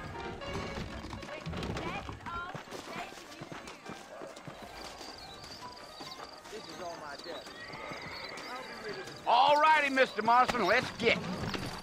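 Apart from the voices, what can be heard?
horses in a video game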